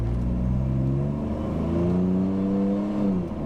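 A car with an automatic transmission climbs an uphill grade at light, 25% throttle, its engine note steadily rising in a smooth whirring drone, close and continuous without speech.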